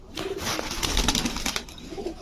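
Several male pigeons, including a strong milky-coloured Golla cock, coo in a loft, their repeated throaty calls overlapping close by over a steady background bustle.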